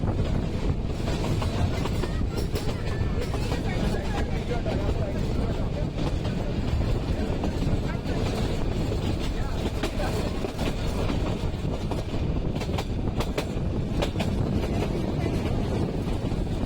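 The Nilgiri mountain heritage train runs near Ooty, giving a steady, loud rumble of wheels and carriages with wind buffeting throughout and a few sharper rattles, heard from on board.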